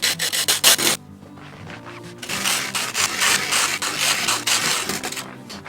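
A straight-edge scraper on an extendable snow brush scrapes ice off a car window in loud, repeated rasping strokes: a quick run of short scrapes, a brief lull, then longer continuous scraping close by.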